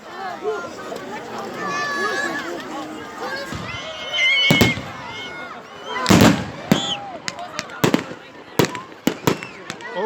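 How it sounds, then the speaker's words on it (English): Fireworks burst at an evening display in Great Yarmouth, several sharp bangs and crackles landing in quick succession over steady crowd chatter, with someone talking throughout. "Oh, what a lovely bang."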